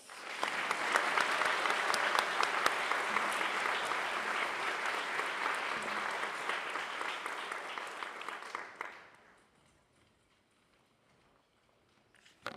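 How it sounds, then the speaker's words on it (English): Audience applause at an academic honors ceremony after a scholarship recipient is announced, a full, sustained clapping for about nine seconds that fades out into near silence. "Applause."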